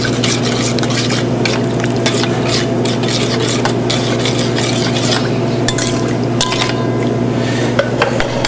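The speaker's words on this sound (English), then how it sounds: "you want to see that sizzle like that" Loud, steady sizzling of garlic and cumin frying in hot oil, with stirring and scraping sounds against a pan throughout.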